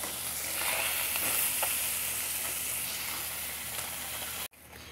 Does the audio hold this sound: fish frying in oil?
yes